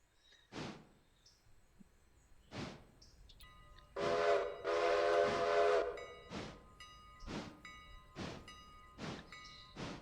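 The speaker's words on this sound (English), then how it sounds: "You gotta blow the whistle and hit the bell." In the Railroader railway game, a train whistle blows in several short sharp blasts and one longer sustained blast mid-sequence, spaced out over a quiet background, with the bell faintly audible beneath.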